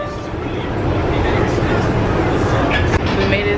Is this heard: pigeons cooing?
no